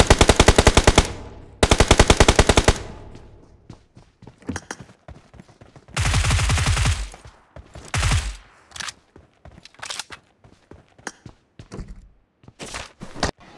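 Gunfire in the video game PUBG Mobile, played on a Sony Xperia 1: loud rapid automatic bursts, then longer sustained sprays and scattered single shots and short volleys, close and dominant with no talk.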